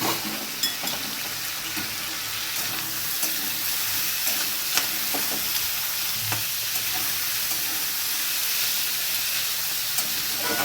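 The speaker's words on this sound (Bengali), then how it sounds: "সবজিগুলো আমি একটু ভাজা ভাজা মতো করে নেবো" Potato, onion and steamed cauliflower stems frying in a pan, a steady close hiss and sizzle with occasional stirring scrapes and pops, no talk.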